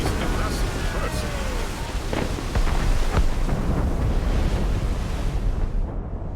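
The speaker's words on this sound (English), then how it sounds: "Cannon fire. Deep within the fog." Deep, muffled booms of ship cannon fire roll out of thick fog in Assassin's Creed Rogue, several distant thuds under steady wind and ocean surf, while a voice speaks over the scene.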